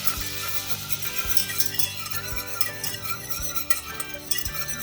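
Whisk stirring flour into melted butter in a saucepan, with repeated light scraping and clinking strokes against the pan over a soft sizzle, close and alone.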